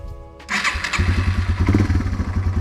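A Yamaha TW200 motorcycle with stock exhaust cranks and catches after a brief quiet moment, then settles into a loud, close, rhythmic single-cylinder thumping idle.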